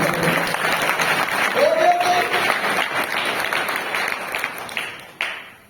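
An audience at a church spiritual awakening convention claps in a sustained wash of applause that gradually fades, with a few voices mixed in.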